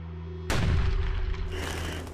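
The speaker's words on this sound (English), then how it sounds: "A cannon fires at the moment of Anne's death, ordered by Henry as a signal that the task was complete." A single heavy cannon blast booms out suddenly after a quiet low tone, followed by a long rolling rumble that lingers and slowly fades.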